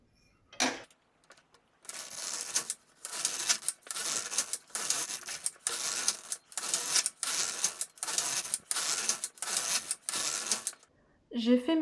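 An LK1 knitting machine knits rows of a sock, its carriage sweeping back and forth in about ten loud, regular rasping passes with brief gaps between them and no talking.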